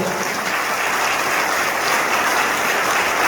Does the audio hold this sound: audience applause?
yes